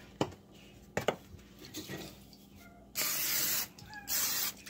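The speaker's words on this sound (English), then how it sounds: "Quick spray." Two short hissing bursts of cooking spray from an aerosol can onto a waffle maker, close and crisp, after a few quiet clicks and handling noises.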